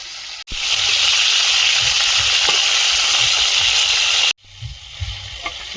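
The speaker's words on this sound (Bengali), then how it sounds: "এক পিস করে ভাজা হয়েছে আর এক পিস করে উল্টে দিচ্ছি" Fish pieces frying in a pan and being turned over, a loud steady sizzle broken by two sudden drops and light scraping as pieces are flipped, with no speech.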